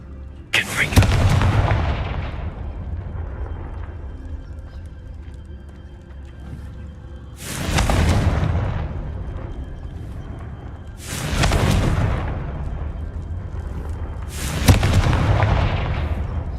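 Confringo blasting spell explosions in Hogwarts Legacy: four loud booming blasts, each with a sharp onset and a rumbling decay lasting a couple of seconds, spaced several seconds apart, with no talking.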